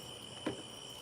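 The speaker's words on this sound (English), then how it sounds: "Y'all hear them crickets in the background" Crickets chirping at night outside on a porch, a faint steady high trill running through the quiet background, with one brief soft thump in the middle.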